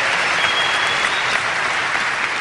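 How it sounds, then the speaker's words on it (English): A lecture audience applauds in a dense, steady wash of many hands clapping together, loud and continuous with no talk over it. "You clap, you're awake."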